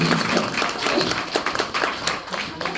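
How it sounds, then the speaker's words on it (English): A library show audience applauds for the kids. The clapping is close and somewhat uneven, with a few louder individual claps standing out as voices mingle in the background. "Now, a little round of applause for the kids."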